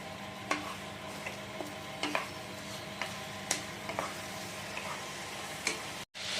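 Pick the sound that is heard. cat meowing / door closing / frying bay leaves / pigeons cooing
frying bay leaves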